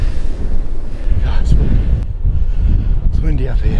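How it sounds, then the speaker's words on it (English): Strong wind buffets the microphone up above Westward Ho! beach, a loud, continuous rumbling roar with gusty swells throughout, and a person speaks briefly under it. "It's windy up here."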